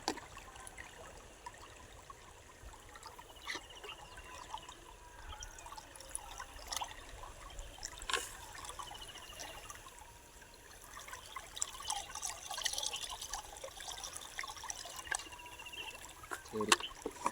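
Pesticide mixture being stirred in a can of water for a first spray on a transplanted crop, giving quiet irregular sloshing and trickling with scattered splashy clicks and low outdoor background.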